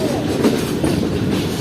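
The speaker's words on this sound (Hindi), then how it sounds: "ट्रेन हमारी पहुंच रही है वज़ीराबाद जंक्शन रेलवे स्टेशन पर।" The Sir Syed Express from Rawalpindi to Karachi rolls into Wazirabad Junction station in Pakistan, wheels clattering in a steady rhythm under a continuous rumble, heard close and moderately loud from aboard the train.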